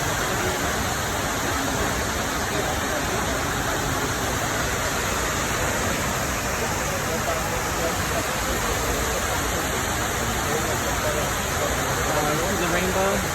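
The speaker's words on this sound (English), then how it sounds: "The sound of the cascading water makes the pools a place of tranquility and contemplation" Cascading water at the 9/11 Memorial pools in New York City makes a steady, loud, unbroken rushing roar, like a waterfall, that fills the whole clip.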